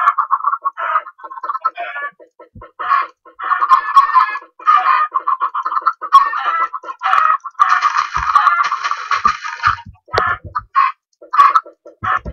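Chickens cluck and crow in a game, in repeated short bursts of clucks over the full stretch, loud and close, with some sharper thumps toward the end.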